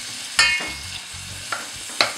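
Onions sautéing in a pan, quiet background sizzle broken by three sharp scrapes or clacks of a utensil against the pan, spaced unevenly.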